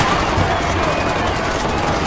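Continuous dense gunfire in Far Cry 4's arena, rapid overlapping shots filling the whole moment at a loud, steady level.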